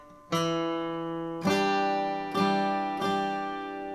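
Electric guitar plays four sustained, ringing strums of the opening riff of a song, spaced about a second apart, each attack fading slowly, with no voices.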